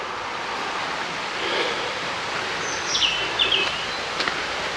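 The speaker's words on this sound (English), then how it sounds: "You can hear the water." Water flows in a constant broad rush near old rusty stonework outdoors, while a few brief bird chirps sound faintly above it.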